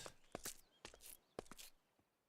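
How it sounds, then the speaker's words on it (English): A dog's paws and claws on ice in a video game make three short bursts of crisp clicking steps, each a quick scrabble of taps, fairly faint and with no other sound around them. "paws and claws on ice."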